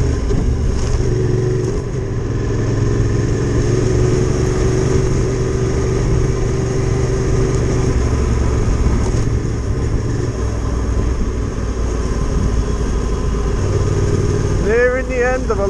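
Adventure motorcycle engine on a sunny trail ride in Wales, a steady close rumble running throughout with a shifting tone, while a voice talks over it briefly near the end.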